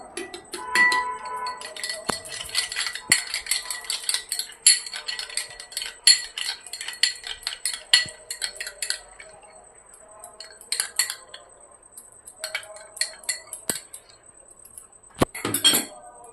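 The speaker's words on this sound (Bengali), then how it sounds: "দইটা একটু আমি ফেটিয়ে নেবো" A spoon clatters quickly and repeatedly against a bowl as yogurt (curd) is whisked, with busy clinking in bursts and short pauses between them.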